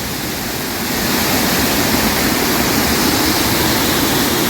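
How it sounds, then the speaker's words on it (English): Arizona Falls, a small urban waterfall spilling into a canal, roars as a steady, loud broadband wash of falling water, swelling slightly after the first second and holding constant with no voices. "Come back around, give you another look at the falls."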